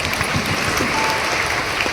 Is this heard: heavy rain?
no